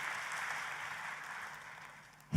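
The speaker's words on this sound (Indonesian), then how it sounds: "Tepuk tangannya boleh yang paling dahsyat buat Yesus Tuhan kita" A church congregation claps together for a worship moment, a broad, steady wash of applause that slowly tapers off, with a sharp louder burst at the very end.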